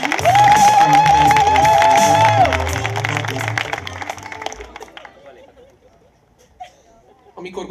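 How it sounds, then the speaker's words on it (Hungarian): Applause and cheering from the audience at a slam poetry showcase and open mic in Szeged, loud at first with music playing underneath, then thinning out and fading to scattered claps and murmur. "Most erősödjön fel egy kicsit a taps!"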